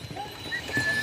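Horse hooves clip-clop on a rough, pitted mountain road on the pilgrim route down from Kedarnath, a few uneven hoof strikes in a brief burst with faint voices and outdoor noise around them.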